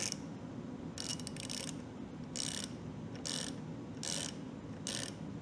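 A ratchet wrench tightens bolts on the front fork of a 2024 Aprilia RS660 during lowering work. It gives faint bursts of rapid clicking, about five, over a steady low background hum.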